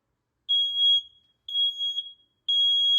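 A household smoke alarm set off with smoke spray gives three loud, piercing electronic beeps, each lasting about half a second, evenly spaced with silence between them.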